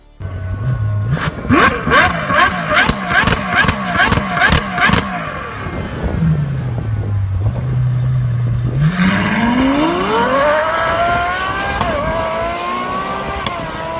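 A Ferrari 812 Superfast V12 engine blips its throttle in a quick series of sharp revs, then idles low before swelling into a long rising roar, loud and close.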